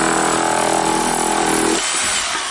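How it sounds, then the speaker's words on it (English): A reciprocating saw rips through treehouse siding with loud, close, continuous buzzing for almost two seconds, then stops, leaving a brief quieter tail. "reciprocating saw."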